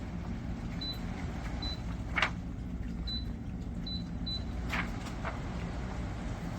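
Dreo tower fan blows air with a steady broadband whoosh as its speed is raised, accompanied by several short, high control-panel beeps and a couple of faint clicks, heard close up.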